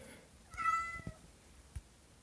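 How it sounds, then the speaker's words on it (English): A cat gives a single short meow in the background, faint and distant in a quiet room, followed by a couple of small knocks. "Say hi to the cat in the background."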